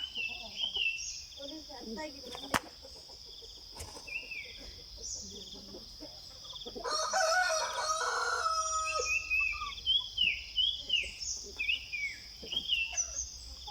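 A Giriraja rooster crows nearby with a loud, drawn-out call in the middle, followed by a run of shorter rhythmic clucks and calls over a quiet outdoor background.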